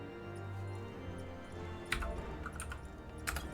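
Soft, quiet clicking of a computer keyboard being typed on, with irregular keystrokes that grow a little denser toward the end.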